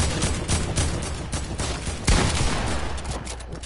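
Rapid bursts of gunfire in a shooter video game during a live volcano-eruption event, dense overlapping shots rattling continuously with a heavier blast midway.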